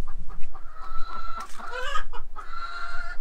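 Chickens cluck and call at a chicken coop, several close overlapping clucks and drawn-out cackles over a low background hum, with no talking.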